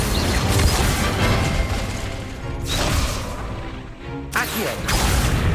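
Fire spell Incendio cast repeatedly in Hogwarts Legacy, heard as loud roaring, crashing bursts of flame and impact over constant battle noise, with a brief dip before another blast.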